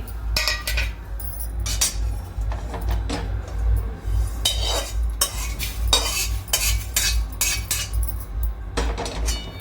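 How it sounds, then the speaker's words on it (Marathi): A metal spoon scrapes and clinks against a pan while freshly roasted masala for Kolhapur-style matki misal is stirred and lifted out, with repeated irregular scraping and clinking strokes over a steady low background hum. "आता हा मसाला मी काढून घेते"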